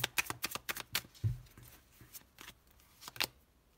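Tarot cards being shuffled and drawn, a quick run of papery riffles and snaps followed by a soft thud as a card is set down, then a few more sharp card flicks, close and clear with no talk.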